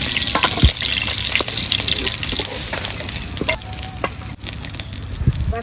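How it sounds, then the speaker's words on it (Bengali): Onions fry in hot oil left from frying a large fish, with a loud dense crackling sizzle throughout, close up, plus occasional sharp stirring knocks. "বাকি পেঁয়াজও ভেজে নেবো"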